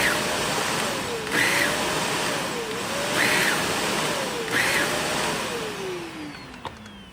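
A Shark Navigator vacuum with a faulty brush roll runs steadily with a loud, whooshing motor roar, and its pitch rises and falls in a slow repeating cycle before gliding downward near the end.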